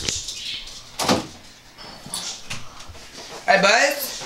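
A pet dog whimpers in short high-pitched bursts close by, mixed with light handling noises and people talking nearby.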